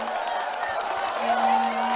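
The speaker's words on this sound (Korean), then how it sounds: "정정당당 김문수 후보께 다시 한번 큰 박수 부탁드리겠습니다." Crowd at a campaign rally for presidential candidate Kim Moon-soo in Ansan, applauding and cheering in a steady, dense wash of noise, with an amplified voice and a sustained tone cutting through.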